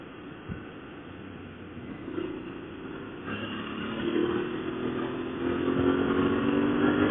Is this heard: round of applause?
no